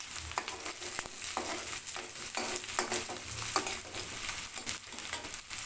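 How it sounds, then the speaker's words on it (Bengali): Chopped onion and garlic sizzle in a pan while being stirred and browned, with a constant frying hiss and a string of light spatula scrapes and taps throughout, no voices. "পেঁয়াজ আর রসুনটা এখন নেড়ে চেড়ে"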